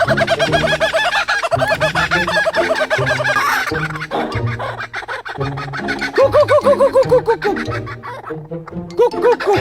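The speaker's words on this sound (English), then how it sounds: "Kookaburra fight." Kookaburras squabble up close in a loud, raucous burst of cackling, chuckling calls that rise and fall in rapid overlapping bouts, briefly dipping before flaring up again, with a person talking in between.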